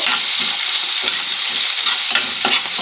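Four or five green chillies fry in hot oil in a pan over already-roasted dal for semiya upma, giving a steady close sizzle broken by irregular stirring scrapes, with no talking.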